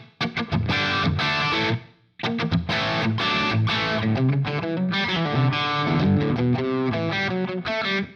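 A Les Paul electric guitar played through a Soldano SLO 30 amp with no reverb gives loud, distorted chords and riffs, with a short break near the start and then steady playing.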